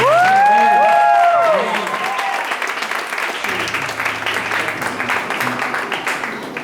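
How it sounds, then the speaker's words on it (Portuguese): An audience at a surprise engagement celebration in a church claps in sustained applause with some cheering, opening with a loud, sung vocal over the clapping before the applause settles into a steady patter. "Você pode aplaudir?"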